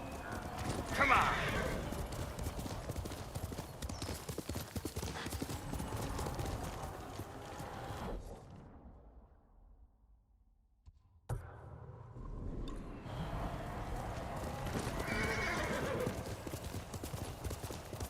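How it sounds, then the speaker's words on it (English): Hooves clip-clop steadily in Ghost of Tsushima, mixed with a neigh from the horse, under game music and voices, with a short quiet gap partway through. "Horse!"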